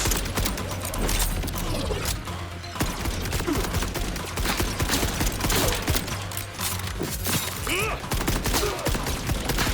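Rapid bursts of gunfire from the Borderlands 4 video game, dense and loud throughout, with sharp repeated shots layered over game music and effects, plus a thrown knife amid the shooting.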